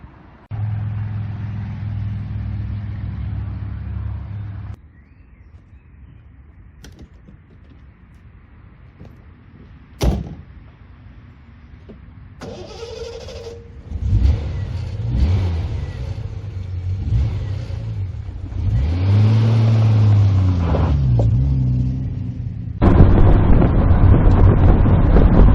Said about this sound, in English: the comment that's been mostly made in favour of the TR6 is the noise. That fantastic throaty roar as you put your foot down